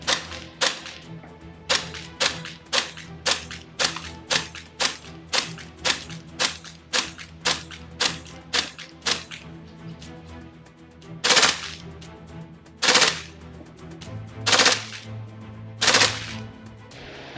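An airsoft AK rifle fires bio BBs at a target in a steady series of single sharp shots, then a few louder, more widely spaced shots near the end, close and with no talk.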